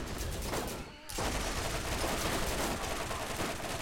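Dense bursts of rapid gunfire in the video game Borderlands fill the whole stretch, dropping out briefly for a moment before the barrage resumes, loud and close.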